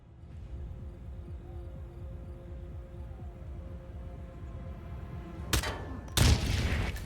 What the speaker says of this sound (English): Something detonated in the proximity.